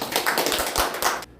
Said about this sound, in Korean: 유영석 이사님 뜨거운 박수로 모시겠습니다